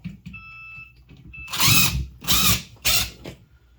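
A power drill drives a screw through a ceiling mount for an LED garage light, three short close whirring bursts separated by brief pauses, with no talk.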